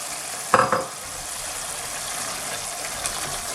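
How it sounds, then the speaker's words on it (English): Dried fish and prawns frying in a pan for a Bengali-style bhuna are stirred slowly, giving a short scrape near the start over a steady, soft sizzle that carries on throughout. "I give it a mix again, a bit slowly, because I don't want the dry fish to get broken"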